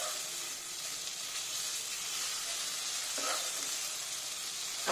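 Pointed gourd mash sizzles and fries in a pan while being stirred, a steady close hiss with faint scraping touches throughout, no voices.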